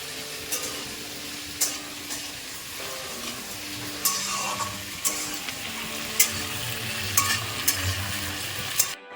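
A few cashew nuts frying in a pan: a continuous close sizzle with intermittent stirring scrapes and sharp taps of a spatula against the pan, moderately loud, no speech.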